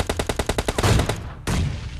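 PUBG Mobile Lite gunfire rings out as about nine rapid, evenly spaced shots, followed by a single heavier blast with a lingering tail, all loud and up close.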